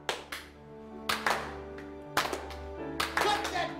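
A deliberate slow clap in a basketball locker-room movie scene: a few loud, spaced hand claps at an unhurried, uneven pace, each ringing briefly in a reverberant room.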